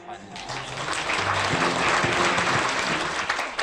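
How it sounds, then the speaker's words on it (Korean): Sustained applause from an audience at a civic association's New Year greeting event, welcoming former Prime Minister Hwang Kyo-ahn to the stage; dense, even clapping swells quickly and holds steady for several seconds. "박수로 환영합니다"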